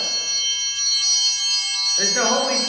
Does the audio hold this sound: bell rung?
yes